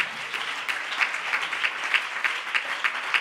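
A church congregation at a convention worship service in Aruba applauds, a sustained wash of many hands clapping with rhythmic peaks, fairly even and moderately loud throughout.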